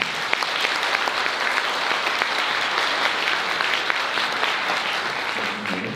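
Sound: wedding guests applauding

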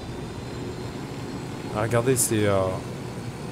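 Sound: helicopter taking off in Ghost Recon Wildlands video game

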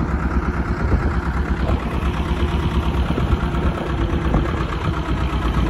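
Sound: boat motor running

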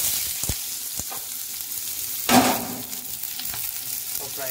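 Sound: onions frying in hot oil with cumin for Maggi

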